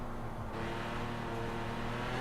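Lamborghini Aventador J racecar in Forza Horizon 4 on a winding switchback road, its engine held at a steady, droning mid-throttle hum with a faint rise in pitch, continuous and close throughout.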